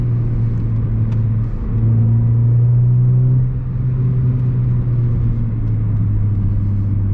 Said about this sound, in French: Quand je l'accélère en deuxième, je sens, elle chasse, enfin, elle glisse un peu.